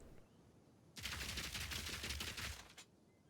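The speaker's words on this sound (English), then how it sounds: "Look at my Shockburst rounds and look how fast they deplete." Shockburst rounds in a video game firing in a rapid, dense burst of crackling shots lasting nearly two seconds, loud and close, starting abruptly and cutting off sharply against quiet background.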